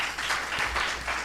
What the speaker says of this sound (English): let's give ourselves an applause for being here